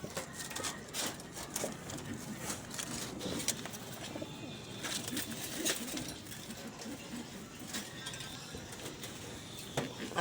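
An off-color pet pigeon in a backyard loft in Pampanga, alongside other pigeons, coos in low, soft, repeated murmurs, with scattered clicks and faint rustling throughout, and no voices over it.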